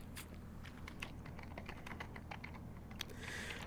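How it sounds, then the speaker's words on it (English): Quiet, rapid typing on a computer keyboard, with soft clicking keystrokes in an uneven, continuous patter over a faint background hum. "I like how the typing makes her mouth move."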